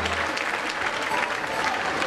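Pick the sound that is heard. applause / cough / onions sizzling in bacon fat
applause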